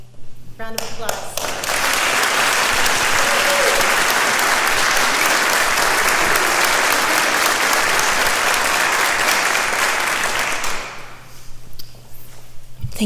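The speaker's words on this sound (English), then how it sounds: "Round of applause." Loud, sustained applause from a large crowd at a city awards event, dense clapping that swells quickly, holds steady for several seconds, then fades out near the end.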